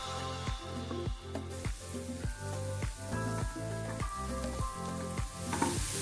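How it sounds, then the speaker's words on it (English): Green spring onions sauté in a hot pan, a loud sizzling hiss broken by regular stirring strokes about twice a second, close and with no voices. "Add the green spring onions and saute for a few seconds."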